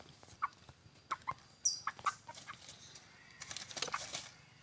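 Chickens cluck and squawk intermittently nearby, with short scattered calls and a brief flutter, against a quiet outdoor background.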